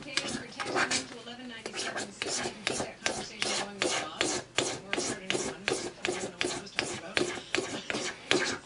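An Opinel folding knife scraping a magnesium fire starter rod, giving a steady run of quick, rhythmic rasping strokes, close and fairly quiet, with no talking over it.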